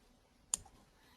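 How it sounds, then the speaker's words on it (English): A single sharp computer mouse click, close and quiet, standing alone against a faint hum during work in paper-craft design software. "left clicking here"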